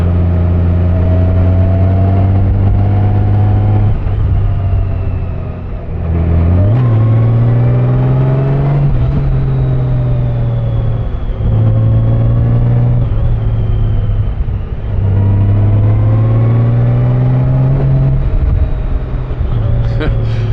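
A Honda Goldwing DCT motorcycle on a ride, its engine droning loudly at close range and rising and falling with speed and gear changes, heavy wind rush over it.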